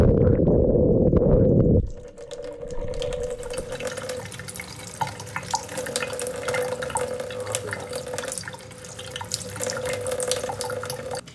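Water pours directly onto a GoPro Hero10 camera lens with a hydrophobic cover, first a loud muffled gush, then a steady close splashing and trickling stream with drips.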